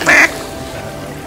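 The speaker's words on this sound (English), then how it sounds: "Look at these ducks." A single short, loud duck quack at the start, followed by a quieter stretch of faint background noise.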